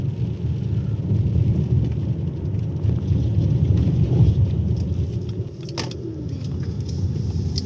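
A car drives through a village with a steady, close, low road and engine rumble, a brief sharp knock near the end, and no talking.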